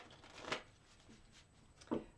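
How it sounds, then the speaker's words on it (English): Tarot cards are shuffled in a quiet room, with two short soft riffles about a second and a half apart, close but faint, and no talking. "I'm going to shuffle them 3 more times."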